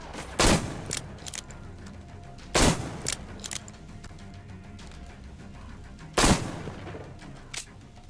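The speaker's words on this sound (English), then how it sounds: "Where are they shooting at me from?" Sharp, loud gunshots from Metro Exodus ring out in three heavy blasts, each trailed by a few smaller echoing reports, with quieter gaps between them.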